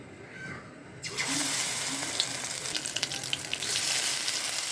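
Food frying in hot oil in a home kitchen, a steady close crackling sizzle that starts abruptly and continues with small pops and spatters, no talking.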